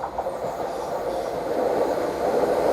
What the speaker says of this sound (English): Now we are starting to get a train coming through here, which should be a Great Wrangler service from Lowestoft towards Ipswich